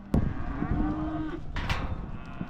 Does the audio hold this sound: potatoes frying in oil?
no